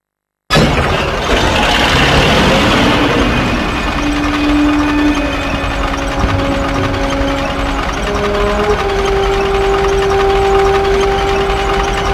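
A T-34 tank with engine trouble idles in a Call of Duty Finest Hour cutscene, a loud steady mechanical rumble starting suddenly, with droning tonal hums layered over it.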